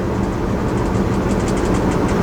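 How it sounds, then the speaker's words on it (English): A long freight train of aluminum cars, at least 110 cars, rolls past close by with a loud, steady rumble and faint rhythmic wheel clicks throughout. "Aluminum cars carrying at least 110 cars per train going from probably Wyoming to Chicago"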